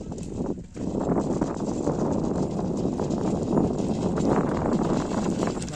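Rapid hoofbeats from a pair of bullocks trotting steadily over ground, blended with wind rumble and continuous outdoor noise.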